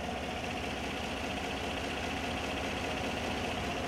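A Chevrolet Silverado truck engine runs at idle with the hood open, a steady, even mechanical hum heard close and alone.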